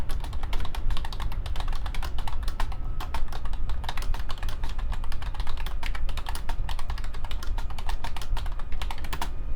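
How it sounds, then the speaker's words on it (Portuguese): Steady rapid typing on a computer keyboard, dense overlapping key clicks running continuously and close by with no voices. "Vou escrever digitando aqui, tá?"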